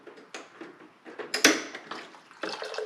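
Hot water runs from the tap of an Avalon bottom-loading water cooler, a modest splashing trickle with a few sharper clatters partway through.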